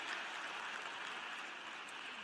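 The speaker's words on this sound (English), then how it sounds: "So let's give them another round of applause." A large commencement crowd at a graduation ceremony gives a steady round of applause, heard as a soft, even wash of clapping from a distance.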